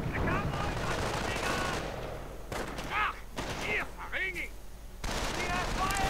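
Sniper and rifle fire in a World War II real-time strategy game: dense, clattering volleys alongside louder isolated reports, heard beneath a steady in-game battle din and a talking voice.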